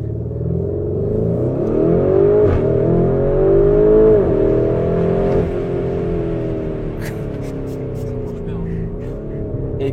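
Audi Urus engine revving hard for a launch start, a loud sustained roar with rising and falling pitch, close up, while people talk over it.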